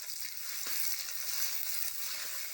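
Onions fry in hot oil in a pan, giving a steady, close hiss and sizzle with a few faint stirring taps and no talking.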